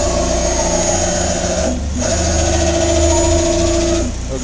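A Bridgeport Romi EZ Path III S lathe, 23 by 120 inch, drives an axis with a steady close mechanical whine and hum, briefly pausing midway before resuming.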